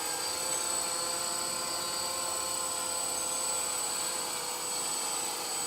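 A 3D X8 six-axis GPS RC quadcopter hovers and flies, its motors producing a steady high-pitched buzzing whine with constant loudness and no pauses across the whole stretch.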